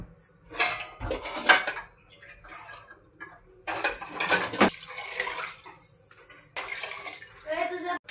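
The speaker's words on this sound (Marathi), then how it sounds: "आता यामध्ये आपण 2 तांबे पाणी टाकणार आहोत।" Water poured into a pressure cooker holding dal with tamarind pulp, splashing and gurgling in bursts against the metal pot with clanks of vessels, close and fairly loud, no speech.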